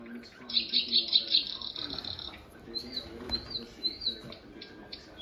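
A nightingale sings a rapid series of high, bright chirps, then a few separate whistled notes, layered over a fuller, busy background.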